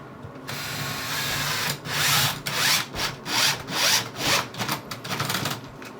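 A cordless drill drives screws into cement backer board for a bathroom shower build, a steady whirring run that breaks into a series of pulsing, ratcheting bursts as the clutch slips, close and loud with no talk.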